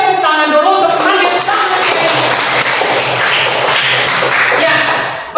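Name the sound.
audience clapping for Maria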